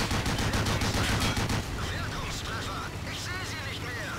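A Pz.Kpfw. I Ausf. C light tank fires its rapid-fire autocannon in World of Tanks, a loud fast burst of shots for about a second and a half before the firing gives way to battle noise. Talk runs underneath.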